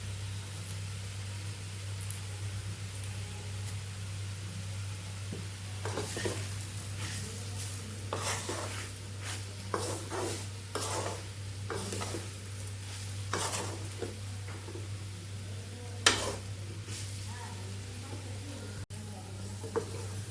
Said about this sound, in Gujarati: તો એવી રીતે ફેરવતા ફેરવતા બધી સાઈડથી આપણે રોટલીને એકદમ મસ્ત એવા કડકડિયા તૈયાર કરી લેવાના છે